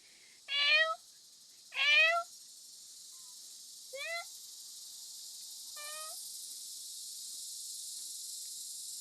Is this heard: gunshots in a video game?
no